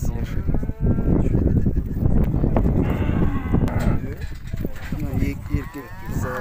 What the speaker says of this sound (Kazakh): өте жуас сиыр.